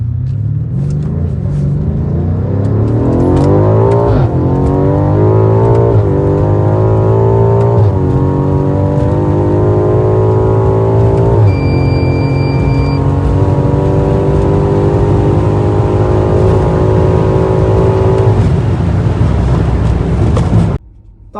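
A BMW F90 M5 on a straight speed run, its engine roaring loud and close and rising steadily through the gears, with short dips at each shift, before the noise cuts off at the end.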